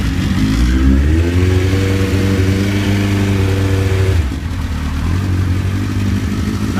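A 2003 ZX9R motorcycle engine with the choke pulled catches and revs up in a close, loud rising snarl, then drops back to a steady, rumbling idle.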